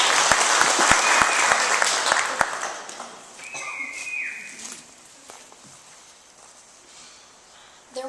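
An audience claps to welcome storyteller Dixie Phillips, loud dense applause with a few sharp claps that fades after about three seconds into quieter room sounds and a brief voice.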